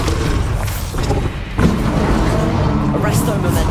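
A Bombarda explosion spell cast in Hogwarts Legacy lands with a booming thud partway through, set amid dense game combat noise, with a voice speaking over it.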